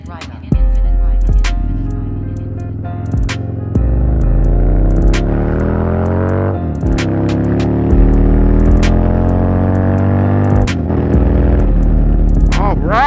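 A 2022 Harley-Davidson Nightster motorcycle engine revs repeatedly, deep rumbling pitch rising and falling through several throttle blips over a steady idle, loud and close with sharp clicks between revs.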